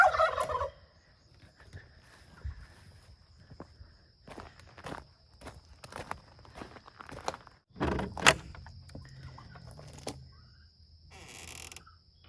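Turkeys gobble on a farm while being called, a loud burst of gobbling near the start and another mid-clip, with footsteps and a door sliding in between.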